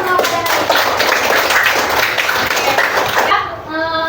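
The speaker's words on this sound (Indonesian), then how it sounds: "sekali lagi kita tepuk tangan yang meriah buat kita semua pada hari ini" A classroom of students claps together in a loud, dense burst of applause that lasts for several seconds, then fades out abruptly near the end while a voice is heard over the tail.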